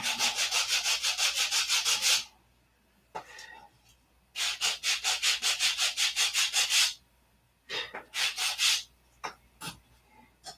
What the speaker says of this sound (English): We'll block sand them square.